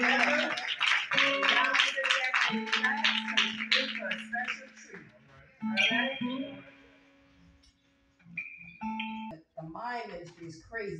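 At a church gathering for North Carolina Day in Paterson, a congregation claps in a quick rhythmic pattern under loud singing and voices. The clapping thins out as speech and tones take over.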